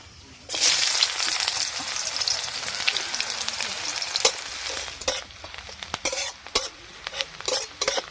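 Chopped onion hits hot oil already holding chilli, a bay leaf and panch phoron, setting off a loud, steady sizzle with scattered stirring clicks and scrapes that grow busier toward the end, no voices.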